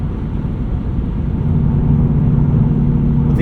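Steady low rumble of a 2024 Ford Mustang GT coupe with its exhaust in sport mode while cruising on a highway, a continuous drone with road and wind noise, no talking.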